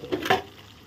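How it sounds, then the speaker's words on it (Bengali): Fried potatoes tumble into a pan of red, spicy chicken curry, giving two quick soft clattering thumps with a brief sizzle, close and fairly quiet, then a low hiss. "এখন আমি আলুগুলো ভেজে রাখা দিয়ে দেব।"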